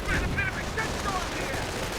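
A war strategy video game produces dense, distant-sounding bursts of small-arms and machine-gun fire that crackle without a break under game noise.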